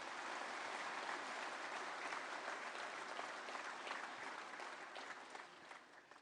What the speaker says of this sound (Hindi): मैं एक बार तालियों की गड़गड़ाहट से आपका सम्मान करेंगे।